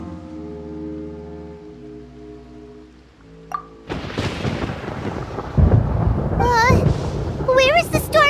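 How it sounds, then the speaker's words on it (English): Thunder crashes and rumbles through a storm in Genshin Impact, rising out of a quiet musical passage into loud rolling booms with sharp cracks, while a voice speaks over the tumult. "Paimon hears thunder!"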